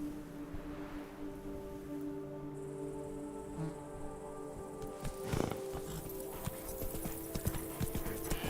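Hooves of Roach, the horse in The Witcher 3, clip-clop in a steady galloping rhythm over a game soundscape with crickets and insects, a sustained tonal drone, and a brief snort or whinny midway.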